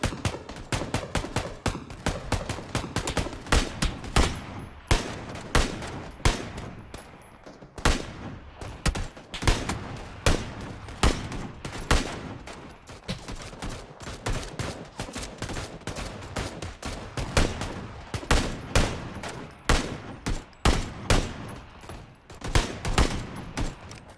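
Repeated gunfire from a video-game gun, sharp shots fired in steady bursts and clusters throughout, loud and close with brief gaps between volleys and no talking.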